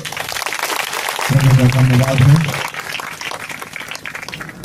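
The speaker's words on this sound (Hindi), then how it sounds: "ताली बजाएंगे।" A congregation at a Christian wedding applauds in a burst of clapping lasting about a second and a half, while a voice speaks over and around it.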